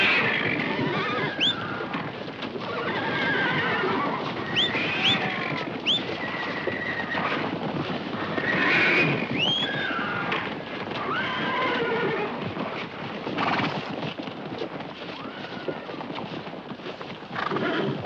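Wild horses neigh and whinny over a steady, dense rumble of galloping hooves in an Old West stampede, with several loud calls rising above the continuous thunder.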